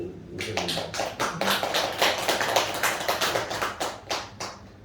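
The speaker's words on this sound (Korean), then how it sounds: "우리 방씨 집안의 정화공주님 박수 좀 쳐주세요" A small audience claps in a loose, rhythmic pattern, with distinct individual hand claps pulsing close and clear over a light room background.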